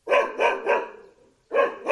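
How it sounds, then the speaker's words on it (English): A dog barks in a cabin's back room, five sharp, loud barks in two bursts: three evenly spaced, a brief pause, then two more, close and with no talking. "he heard his bark from one of the back rooms"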